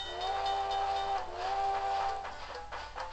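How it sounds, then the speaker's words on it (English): A train in a video game sounds a steam whistle: a sustained, steady two-note tone that breaks briefly and returns, over a continuous rolling rail rumble, fairly loud and close, with no talking. "There's a train over there somehow."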